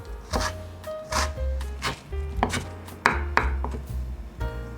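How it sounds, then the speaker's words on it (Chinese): Knife chopping a carrot into small dice on a cutting board, a rapid run of sharp, close thuds and taps in uneven bursts with short pauses, no voices. "把红萝卜切成小碎丁，切得这么细"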